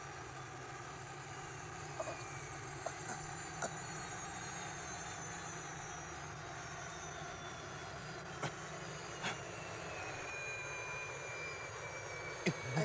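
A spaceship from the Capsule Corporation settles down on Planet Namek, a steady engine drone holding throughout with a few brief clanks and clicks scattered over it.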